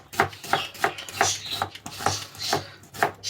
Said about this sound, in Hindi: तकरीबन एक प्याज आप डालें और इसको अच्छी तरह ऐसे काटा करें